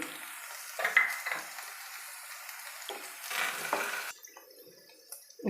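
Finely chopped onions and two green chillies frying in hot oil for a soya pepper fry, a steady close sizzle broken by a few spoon scrapes and clatters of stirring.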